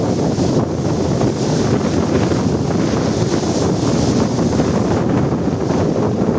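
Strong, steady wind gusting to about 50 roars across the microphone with a low rumble of five-foot waves beneath, continuous and loud throughout.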